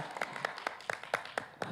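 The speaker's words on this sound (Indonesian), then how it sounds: "Boleh berikan tepuk tangan yang meriah untuk Nanang Adit dan Galuh Anissa." A handful of distinct hand claps ring out in a loose irregular rhythm, faint and sparse, from an audience at a grand final pageant evening.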